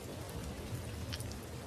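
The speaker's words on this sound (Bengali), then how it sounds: "চারিদিকে তখন ঝড় আর বৃষ্টি" Rain falling steadily during a night storm, a dense even patter with a low rumble beneath and a few brighter drips, heard close and alone.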